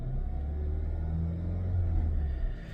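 A Chery T8 Max Pro AWD engine gives a low, steady rumbling rev, held at a moderate level and heard up close without voices.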